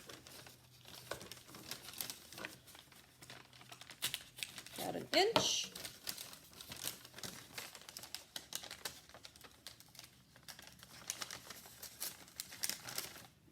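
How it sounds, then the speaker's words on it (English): Scissors snip a hole through a paper cup for a small parachute craft, a brief crinkly cutting burst near the middle among papery handling rustles, with a voice speaking over it. "I'm going to do my little hole with my scissors"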